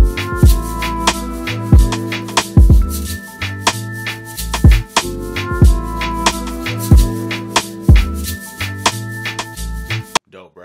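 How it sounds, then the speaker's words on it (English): A boom bap hip-hop beat built in FL Studio, with punchy kicks and snares, a looping melodic sample and a shaker percussion loop layered in, playing steadily and loud for about ten seconds before cutting off. "With that shaker that I added, it sounds like this."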